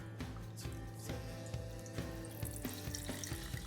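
Cold brew coffee pours and trickles steadily through a filter into a container, with light splashing and drips close by.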